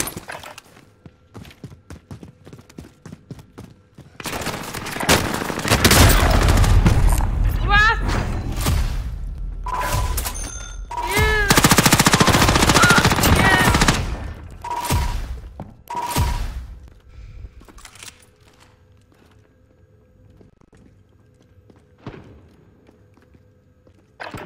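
Call of Duty Warzone gunfire erupts in loud clustered bursts of shots with impacts and clatter across the middle of the match, fading to quiet game ambience, with a voice talking briefly.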